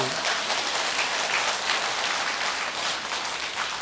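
An audience claps through a Buddhist New Year prayer dharma talk at a temple, a steady hiss of many hands at moderate distance, continuous and even, with no voices standing out.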